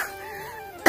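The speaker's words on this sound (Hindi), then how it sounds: "तो खांसी भी हो रही है अभी ऊपर जाने में" A single sharp cough from a person climbing up toward a railway bridge in a Bihar village lands abruptly near the end, close and loud after a moment of quiet background tone.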